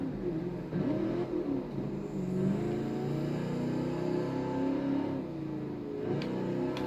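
A Ford Falcon XB GT hardtop with a 4-speed top loader gearbox rumbles and revs while driving, its engine pitch rising and falling steadily, close and loud inside the car.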